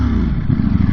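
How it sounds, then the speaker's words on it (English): A 2021 Ducati Streetfighter V4S motorcycle engine revving loudly up close, a dense, throbbing low roar with rapid pulsing throughout and no speech. "rev up that motorcycle engine"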